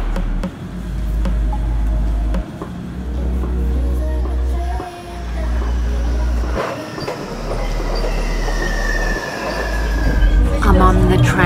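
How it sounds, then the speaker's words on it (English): Inside a moving commuter train: a low continuous rumble with rolling wheel noise, occasional rattles and faint squeals, and murmuring voices in the background. "I'm on the train."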